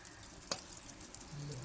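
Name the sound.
frying eggplant and green chilies in a pan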